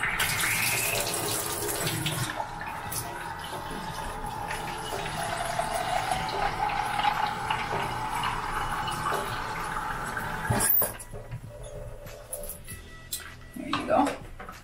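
Clean tap water runs steadily into a container in a home kitchen while a vegan seed breakfast with almond milk is made, with a steady splashing flow that cuts off near the end, followed by a couple of handling clunks.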